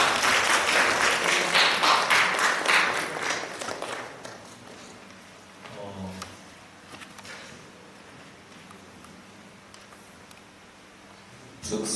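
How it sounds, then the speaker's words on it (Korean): Applause from a church congregation during a Sunday worship service, a dense burst of clapping for the first few seconds that thins out into scattered claps and room noise. "박수 좀 한번 주실까요?"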